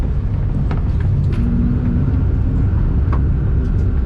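A small CityBug car pulls out onto a race track, its engine a steady low rumble close by, with no talk over it.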